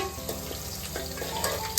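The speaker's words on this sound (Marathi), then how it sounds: "आता फोडणीची तयारी." Spices tempering in hot oil for a Konkan village-style feast, a steady close crackling sizzle with a few sharper pops and stirring clinks, no voices.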